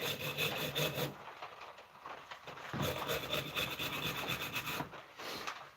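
Sandpaper rubbed by hand over old wood during a restoration, rough rhythmic back-and-forth rasping strokes close by, with a brief pause midway before the scrubbing resumes.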